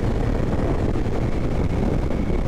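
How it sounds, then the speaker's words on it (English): Strong wind buffets the microphone as a rider sits on a 2021 Honda CRF300L motorcycle, a loud, constant low roar with no other sounds. "incredible wind here."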